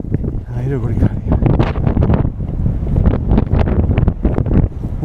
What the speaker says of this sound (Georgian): აი როგორი ქარია.